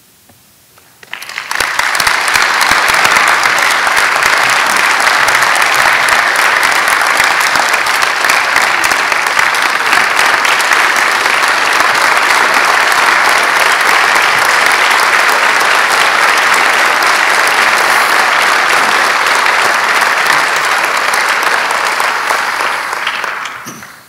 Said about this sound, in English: I'd like to thank each and every one for the applause and the recognition for my son, the late Trooper Calvin Jenks.